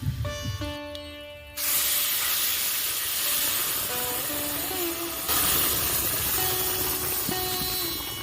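Boiled lentils and bottle gourd go into a hot pan, setting off a loud, steady hiss of sizzling steam that surges again partway through and keeps rushing.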